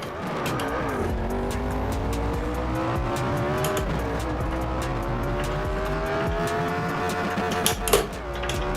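A car engine revs and drones steadily while tires squeal under braking in the driving game Test Drive Unlimited, loud and close, holding throughout with a brief knock near the end and no talk.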